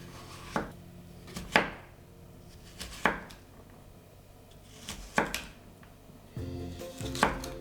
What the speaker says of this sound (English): So over here, I'm just going to make it, cut them into slices first.